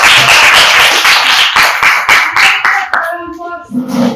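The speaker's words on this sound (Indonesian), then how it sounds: "Tepuk tangan dulu untuk kelompok" A small classroom group claps for a presenting group, loud, close rhythmic claps that thin into separate slaps before a voice speaks and tones ring out at the end.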